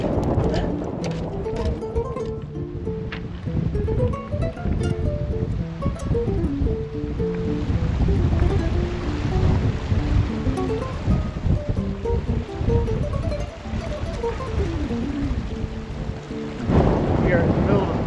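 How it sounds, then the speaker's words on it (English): Strong, steady wind roars and buffets across an open desert section of the Aconcagua trekking route, loud and close throughout with no letup. "just extremely windy like every day."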